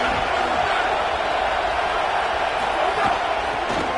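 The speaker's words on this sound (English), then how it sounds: "this crowd ready to make its presence known" A packed football stadium crowd at a college game, North Dakota State at Nebraska, keeps up a dense, continuous roar of cheering and shouting. The noise is loud and steady throughout the clip.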